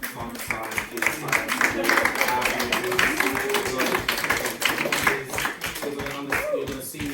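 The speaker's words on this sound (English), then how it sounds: "So I always like to give it a round of applause." An audience claps and applauds at a talk on mycology and permaculture, a dense steady patter of many hands through the room with some voices mixed in.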